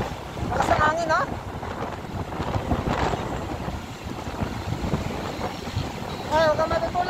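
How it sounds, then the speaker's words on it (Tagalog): Strong wind buffets the microphone in gusty bursts, with a voice talking briefly over the roar. "Lakas ang hangin ha."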